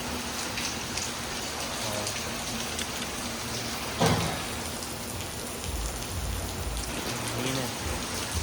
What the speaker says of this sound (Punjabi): ਲਗਾਤਾਰ ਹੀ ਮੀਂਹ ਪਈ ਜਾਂਦਾ ਕਿੰਨਾ ਤੇਜ਼ ਆ ਮੀਂਹ ਬਹੁਤ ਤੇਜ਼ ਮੀਂਹ ਆ